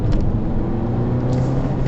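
Honda Civic MK8 with a 1.8L VTEC engine accelerating in second gear, a steady low engine drone heard from inside the car, brief and even without clear revving peaks.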